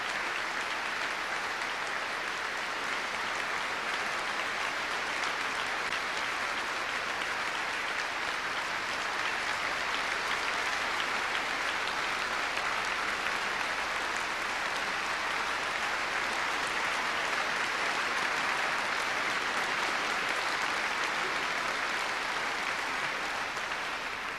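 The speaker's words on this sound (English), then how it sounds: "spontaneous applause breaks out in Westminster Abbey" Spontaneous applause from a large congregation inside Westminster Abbey at a state funeral, a dense, steady roar of clapping that swells and holds loudly for the whole stretch without any voices over it.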